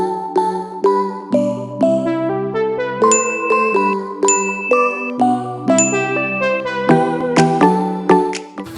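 A bright notification bell chime rings out as a quick melodic run of clear, ringing dings that overlap and decay, loud and close with no voices.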